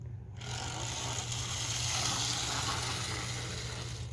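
A Mantua model train engine runs with noisy gears, giving a steady whirring, grinding drone that starts abruptly and holds at an even level with no voices.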